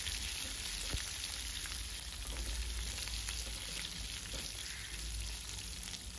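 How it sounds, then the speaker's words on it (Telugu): Chopped onion fries in a pan of hot oil, giving an even, continuous sizzle at moderate volume with faint crackles throughout and no talking. "ఉల్లిపాయ కూడా వేగనిచ్చి"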